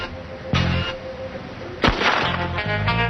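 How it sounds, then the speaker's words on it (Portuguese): A single loud pistol shot cracks out, followed by a second sharp report about a second later and then a trail of fainter returning echoes and reflections. "o tiro feito pela pistola está bem em cima, à esquerda, e as ondas menores, mais embaixo, são os ecos voltando"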